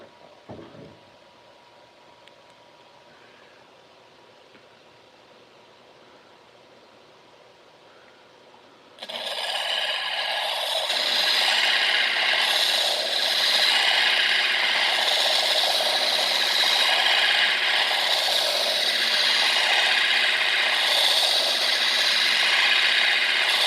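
A gemstone cabochon being ground on an 80 grit lapidary disc, quiet at first, then a loud, continuous abrasive rasping whir that starts abruptly and holds steady to the end.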